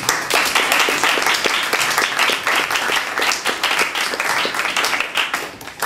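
An audience at a debate on European defence applauds: dense, sustained clapping from many hands, loud and continuous throughout with no talk over it.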